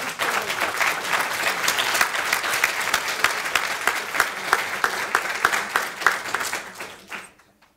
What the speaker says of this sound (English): can we just give her a clap once more for the lecture today?